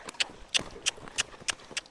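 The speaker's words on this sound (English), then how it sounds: "Now, would I always back my horse that fast?" A horse's hooves clop on the ground as it is backed up quickly on a lead line during groundwork training, about six crisp, evenly spaced steps, close and clear.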